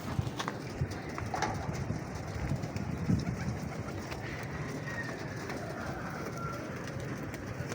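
Pigeons coo steadily against a dense, constant background rumble, with soft fluttery movements scattered throughout.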